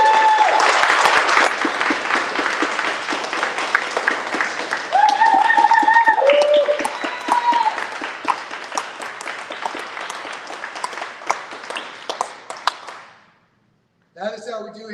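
Applause rolls through an audience at a Marine Corps birthday celebration, sustained clapping with a few cheers for about thirteen seconds before cutting off, then a voice starts speaking.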